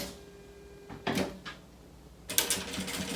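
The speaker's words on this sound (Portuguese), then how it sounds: "e aí eu vou começar a costurar aqui da ponta, ó, vou costurar aqui" Sewing machine stitching fabric for a beach bag, starting with brief mechanical clicks and a short whir, then a closer, louder run of stitching near the end, in a quiet room.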